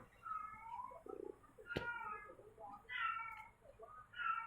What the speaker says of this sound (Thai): แมวอยากออกนอกบ้านมันก็เลยชอบร้อง